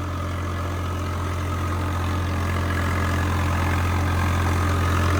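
A tractor engine runs at a steady idle-like drone during ploughing on wet farmland, loud and close with a strong low hum and no voices.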